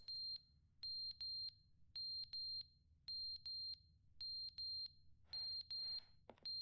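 Repeated electronic beeping from a clock lying on the floor in The Stanley Parable video game, sharp high double beeps in a steady rhythm, fairly close and clear over a low background hum, with no talking.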